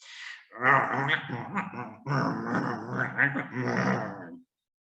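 A voice imitates a dog's growling as a sound effect, producing a rough, rumbling, grunting growl in two sustained bursts, close and fairly loud, with no other sounds around it.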